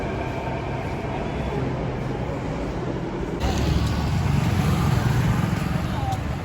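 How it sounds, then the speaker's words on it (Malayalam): A Delhi metro train rumbles steadily close by, a broad continuous roar that swells louder about halfway through, with faint voices in the background. "അപ്പോൾ ഞങ്ങൾ മെട്രോയ്ക്കാണ് പോകുന്നത്."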